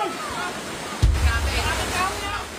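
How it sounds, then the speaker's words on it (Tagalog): Floodwater rushes through a broken dike in Balanga City, Bataan, making a loud continuous roar of surging water, with a sudden heavier burst partway through and a voice speaking over it. "Bumigay ang dike sa lugar kaya rumaragas ang tubig."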